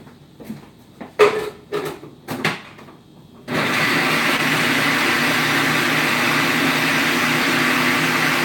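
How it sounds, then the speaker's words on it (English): Onions whirring in a food processor while chorizo is being made: a few short knocks and handling noises, then the motor starts suddenly and runs loud and steady to the end. "I'm going to process these onions really quick."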